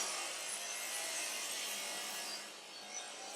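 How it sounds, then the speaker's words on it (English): Angle grinder working at an outdoor construction site, a continuous bright hiss-like grinding heard at a moderate distance, steady throughout with a slight dip near the end. "They do seem to love an angle grinder over here."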